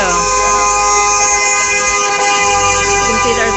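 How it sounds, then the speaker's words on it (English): Horns from passing cars honk at a memorial gathering: several steady overlapping tones hold throughout, loud and close over traffic rumble, with voices talking in the background. "You can see there's lots of cars rolling by, honking."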